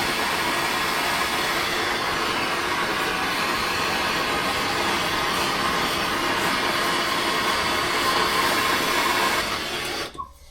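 A torch or heat gun roars steadily while preheating an aluminium alloy wheel from an Audi S6 ahead of weld repair, a loud continuous broadband rush that holds for about ten seconds before cutting off abruptly.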